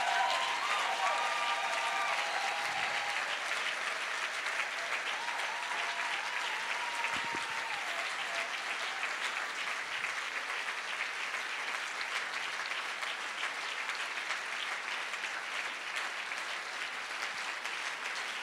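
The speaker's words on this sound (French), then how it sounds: "On acclame la parole de Dieu." A congregation at a French-language church service breaks into loud, sustained applause acclaiming the word of God, a dense close roar of clapping that runs unbroken, with a few voices faintly mixed in.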